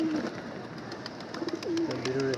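Pigeons in a loft coo softly in short throaty phrases, a few overlapping calls close by against a quiet, slightly rustling background.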